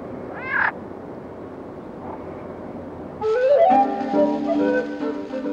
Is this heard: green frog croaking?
yes